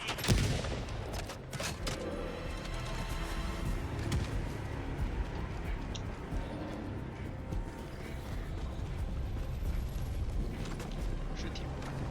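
Gunfire in the video game Helldivers 2, a dense, continuous barrage of shots and mechanical clatter sustained at steady loudness throughout, with a sharp burst near the start.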